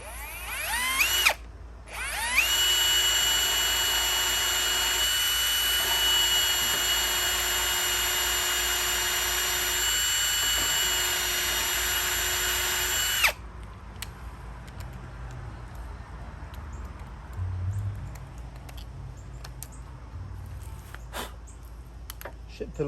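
A power drill whirs loudly and steadily for about ten seconds after a brief start, then stops, leaving faint clicks and quiet background noise.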